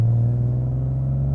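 A supercharged 700+ horsepower Nissan NISMO 370Z with a VQ37 engine gives a brief, steady, deep rumble at close range, with no voices.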